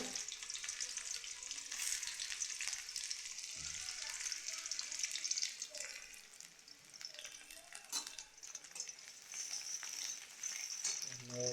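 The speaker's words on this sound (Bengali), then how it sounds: "তেজপাতা দিল রুই মাছের ঝোল হবে আজকে পেঁয়াজ দেওয়া হলো" Onions sizzle and fry steadily in a hot pan with a bay leaf, the start of a Bengali rui fish curry, a loud continuous crackle with occasional stirring and utensil clinks and no talking.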